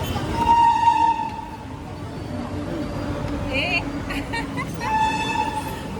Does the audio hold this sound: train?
yes